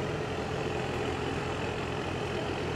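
A heavily modified Dakar Rally 2024 car with a carbon body runs at a steady idle in the bivouac camp, giving a continuous low engine rumble close by with no talk.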